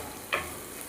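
Chopped ripe tomatoes sautéing in a pan for fish curry, a soft continuous sizzle with one short scrape or stir near the start, quiet and close with no talking.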